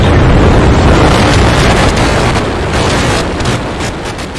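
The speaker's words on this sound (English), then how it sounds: "We have liftoff. Vehicle is pitching downrange." Loud, sustained broadband roar of a SpaceX Starship rocket lifting off, a dense rumbling blast that holds steady and fades slightly toward the end, with no voices.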